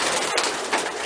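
Pigeons in a loft make a dense, close flurry of cooing and fluttering, loud and continuous with no voices.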